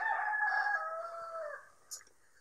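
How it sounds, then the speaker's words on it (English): A cockerel crows loudly and close by in the early morning, one long drawn-out call that trails off, followed by a brief faint cluck. "The cockerels had a fine morning at 3 o'clock this morning."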